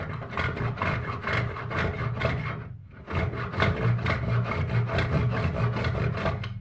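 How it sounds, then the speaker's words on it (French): A veneer saw pushed along a ruler through thin wood veneer, cutting on the push stroke. It makes a close, rapid run of rasping strokes with a brief pause midway, and no one speaks. "on va commencer par couper cette partie-là en utilisant les dents qui sont vers nous et en poussant"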